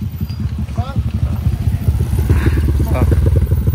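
An underbone motorcycle's small engine putters and clatters steadily as it rides a muddy road after rain, close and loud, with a voice speaking briefly over the engine.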